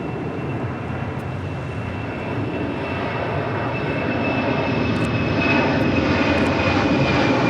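A Latam Cargo plane rolls for takeoff on runway 25 left at LAX, a loud, steady jet engine roar that builds gradually, heard alone at a distance.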